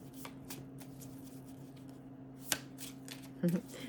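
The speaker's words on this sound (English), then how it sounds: "They take a little more shuffling" Tarot cards being shuffled by hand, soft papery riffles and taps close by, with a sharp snap of cards partway through and a brief clatter near the end over a quiet low hum.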